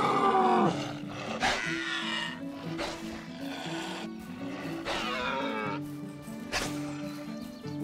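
A wolf in the medieval survival video game Medieval Dynasty lets out several loud roaring, growling calls in bursts over game music and ambience, with no talk.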